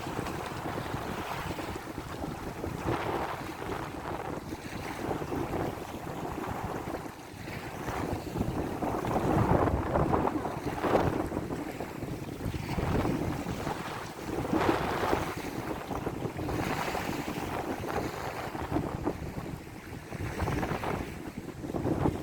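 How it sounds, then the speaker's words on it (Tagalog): Strong wind roars steadily across the microphone with gusting surges, buffeting and rumbling throughout, with water and boat noise beneath and no voices. "Grabe ang lakas ng hangin, nakakabingi po."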